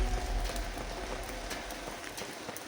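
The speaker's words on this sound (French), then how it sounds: "Alors aujourd'hui il pleut," Rain falling outdoors on a street opposite a shop, a steady broadband patter that holds at an even, moderate level throughout with no talk over it.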